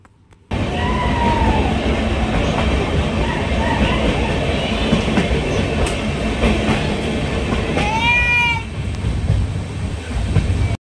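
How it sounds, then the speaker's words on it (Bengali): A train rolls loudly and continuously through a tunnel near Dudhsagar Falls, wheels clattering with a booming echo, and a brief horn-like squeal near the end. "বন্ধুরা, ট্রেনটি পুরো গুহার ভেতর দিয়ে যাচ্ছে"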